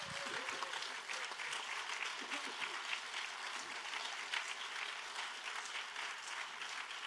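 Sustained applause from a congregation at a church closing worship service, steady broadband clapping continuing throughout without break, fairly loud and even in level.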